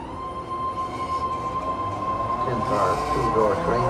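A new ten-car, three-door BART Fleet of the Future train on the yellow Antioch line in San Francisco pulls in at a station platform, a steady rumble with a sustained electric tone and wheel noise swelling toward the end.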